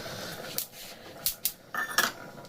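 Nuts being poured from a pan into a separate container while cooking khichuri, a few scattered clicks and small rattling clatters close by, with no talk over them.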